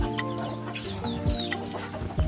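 Madrid Diago chickens clucking in a breeding pen, several soft clucks and chirps at close range, fairly faint, with no talk.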